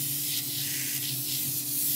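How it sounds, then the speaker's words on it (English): Cooking oil sprayed from a can onto parchment paper on a sheet pan, a short continuous hiss lasting about two seconds, close and alone. "I'm going to spray cooking oil on it."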